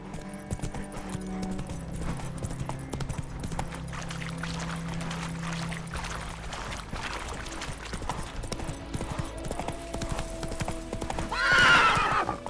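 Roach, a horse in The Witcher 3, gallops with steady rhythmic clip-clop hoofbeats over a constant game soundscape, ending in a loud close whinny near the end.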